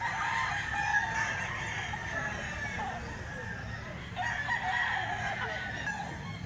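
Several roosters crow at a Filipino rooster market, overlapping with steady crowd chatter and background noise, the crows rising at intervals throughout rather than standing out alone.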